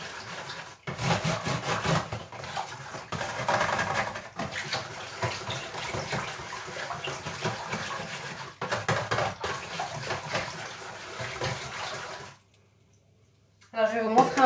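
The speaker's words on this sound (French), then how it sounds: "on reprend et on continue à bien mélanger pendant un bon moment" A whisk stirs ceramic glaze in a container, giving a steady, continuous rubbing and sloshing that runs for about twelve seconds, then briefly stops and picks up again.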